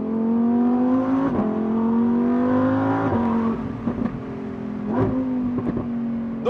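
A car pulls away hard from a standstill, its engine note climbing steadily through the gears with clear shift breaks, loud and close throughout with no talking.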